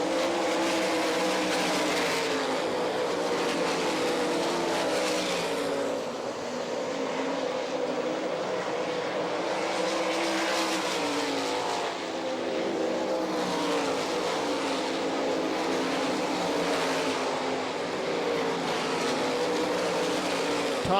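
World of Outlaws sprint cars race in a B-Main at a Rossburg, Ohio dirt track, their engines a continuous roar that swells and fades in waves as the pack circles at some distance.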